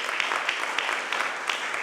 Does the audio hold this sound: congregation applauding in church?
yes